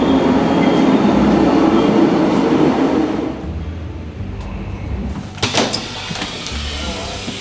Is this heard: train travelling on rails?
yes